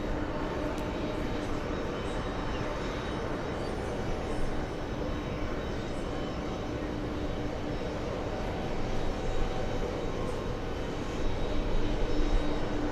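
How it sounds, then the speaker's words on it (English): JetBlue jet airliner flying near JFK airport, a steady broadband engine roar that stays loud and continuous throughout, swelling slightly toward the end as the plane passes. "this is our first look at JetBlue 1009"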